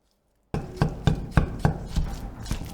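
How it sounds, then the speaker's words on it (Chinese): Chicken breast, trimmed of membrane, is chopped into fine mince with a kitchen knife on a cutting board. After a short silence come about seven sharp, close knife strikes at a steady rhythm with no talking. "然后剁成鸡肉蓉备用。"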